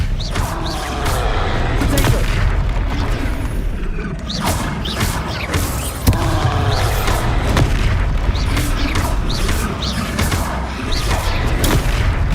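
The Expelliarmus spell fires in the Hogwarts Legacy video game, a heavy booming rumble layered with whooshes and mechanical creaks that rolls on loudly and continuously, with brief surges and no speech.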